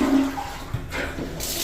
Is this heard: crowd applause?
no